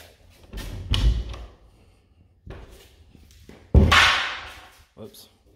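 A newly mounted interior door in a kids' room under construction is swung and shut twice, each time a soft swish ending in a dull thump, with quiet pauses between.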